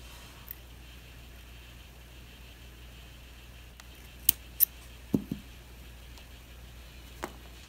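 Scissors trim the last blooms from a Crassula succulent, a handful of faint, sharp snips spaced apart in an otherwise quiet room.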